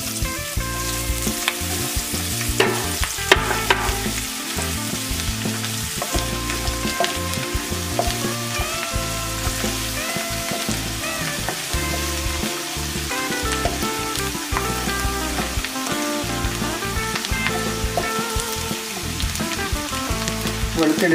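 Garlic fries in hot oil in a pan while being stirred, giving a loud, continuous sizzle with irregular crackles and scraping stir noises for over twenty seconds, close by and with no talk over it.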